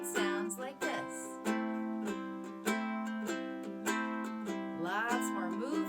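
A plucked ukulele plays a bouncy blues shuffle pattern, strummed chords repeating in a lilting swing rhythm, close and clear, with a few quick slides.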